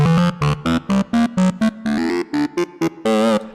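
Synth melody run through a phaser effect gives a rolling, swirling tone; short staccato notes and a few longer held ones play alone, close and fairly loud.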